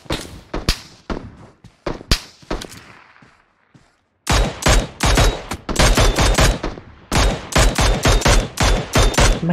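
Gunfire in the mobile game PUBG Mobile, scattered single shots at first, then loud sustained rapid bursts of automatic fire close by.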